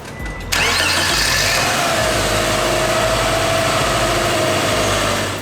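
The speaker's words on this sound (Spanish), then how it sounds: "Siguiente paso, prender el carro." Car engine cranking and catching after a fresh oil change, then settling into a loud steady idle close by, with no voices.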